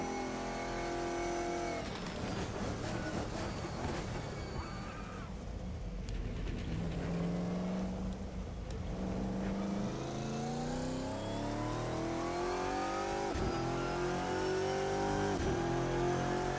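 Porsche GT3 Cup race car engine in rFactor 2 revs and accelerates through the gears, a loud, continuous rising whine with shift drops, steady and close throughout.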